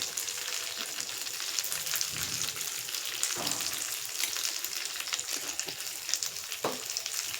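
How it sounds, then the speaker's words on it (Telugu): Spices roast in a hot pan for a cucumber-tomato chutney, giving a steady, close sizzle and crackle throughout with a few brief stirring scrapes and no talking. "ఇవి మాడిపోకుండా చక్కగా దోరగా వేయించేసుకోవాలి"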